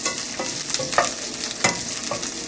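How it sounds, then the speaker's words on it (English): Onions fry in a pan while a spoon stirs them, giving a steady close sizzle broken by several scraping stirring strokes, with no voices. "You need to have this onion fried really well until it turns golden brown."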